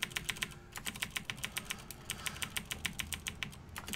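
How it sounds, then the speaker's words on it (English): Rapid clacking on a loud computer keyboard during a Skyrim Special Edition session, bursts of crisp close keystrokes in quick runs with brief pauses, no voices. "I'm gonna buy a quieter keyboard someday"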